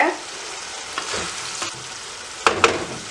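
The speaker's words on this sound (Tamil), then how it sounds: "பண்டி இந்த கொழுப்புலையே பிரட்டி எடுக்கிறோம்" Pork frying in its own fat without oil, a constant crackling sizzle broken by spatula scrapes and a couple of sharper clatters near the end, close and fairly loud, no voices.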